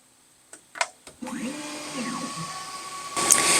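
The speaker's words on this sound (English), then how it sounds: "I just need to push the start button on the front of the machine, which I will do, and then it will start engraving." An xTool S1 20W laser engraver starts engraving, with a few clicks and beeps from the machine followed by a steady, moderately loud motor and fan whir with a faint tonal whine.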